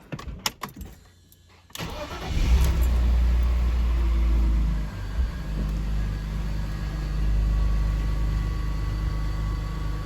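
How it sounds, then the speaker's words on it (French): A car with 180,000 km starts up in a garage: a few clicks and a short crank, then the engine catches with a loud rumble and settles into a steady, droning idle. "on va démarrer un petit coup la voiture, histoire que vous entendiez le bruit du moteur aussi."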